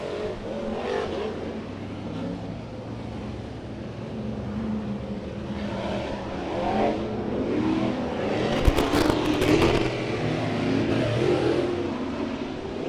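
Modified race cars running a heat race on a dirt track at Santa Maria Raceway, engines droning and surging at a distance with a steady roar, swelling louder toward the end with a brief harsh burst.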